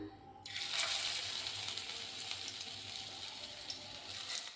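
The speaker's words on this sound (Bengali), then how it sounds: "ছোট ছোট করে চ্যাপটা চ্যাপটা করে আমি তেলে দিয়ে দেবো" Flattened taro fritters dropped into hot oil over medium-low heat, a continuous faint bubbling sizzle that swells right at the start and holds steady throughout.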